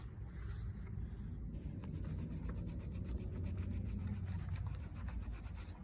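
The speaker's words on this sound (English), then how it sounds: "I can go in and erase it a lot if I want, put some pressure on it" An eraser pressed hard and scrubbed back and forth on drawing paper, producing a continuous close, rough rubbing with fast rhythmic strokes over a low background rumble.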